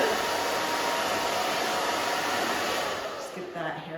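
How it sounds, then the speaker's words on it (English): A handheld blow dryer runs close and loud, a steady whooshing roar as it dries a woman's short spiky haircut, easing slightly near the end. "And then I'm just gonna take the blow dryer."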